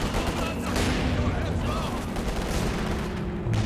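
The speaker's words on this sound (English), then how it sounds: "Here comes a Werfer strike from him." Werfer rocket artillery strike in Company of Heroes 2, a continuous loud barrage of overlapping blasts and rumbling fire, with a voice talking over it.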